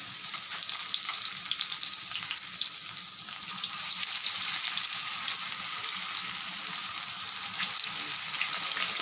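Chicken pieces fry steadily in hot ghee, a dense continuous sizzle with a soft bubbling hiss that swells slightly partway through, with no voices present.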